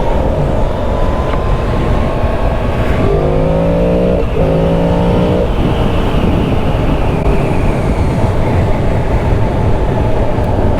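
A 2022 Yamaha Tenere 700 motorcycle riding at speed, a steady loud roar of engine and wind rushing past, with a brief rising whine of the engine as the rider accelerates through gears midway.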